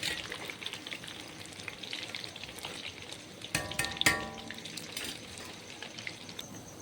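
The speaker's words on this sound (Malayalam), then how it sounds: "എണ്ണ ചൂടായി വരുമ്പം ചിക്കനെല്ലാം ഇട്ട് കൊടുക്കുക." Chicken pieces fry in hot oil, giving a steady, moderate sizzle with bursts of bubbling and crackle and a brief louder flare of spattering partway through, heard close and without speech.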